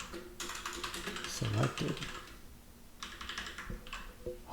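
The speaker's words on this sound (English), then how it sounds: "keyboard." Rapid clicking on a computer keyboard while coding, in bursts of keystrokes at moderate volume, with a person talking intermittently over it.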